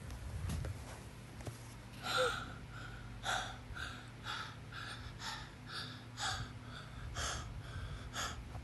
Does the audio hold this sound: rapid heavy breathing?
yes